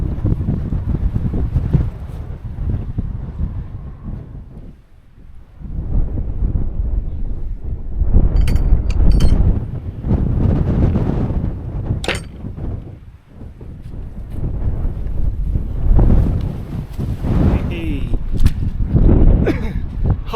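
Strong gusts buffet the microphone in the Peak District National Park, a loud, rough low rumble that surges and eases in waves for about twenty seconds, with a person talking under the wind.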